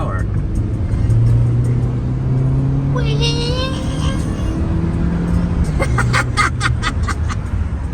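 A Honda Fit with a newly replaced VTEC solenoid pulls hard under acceleration, its engine note rising steadily in pitch over a continuous road drone, with voices and laughter breaking in near the end.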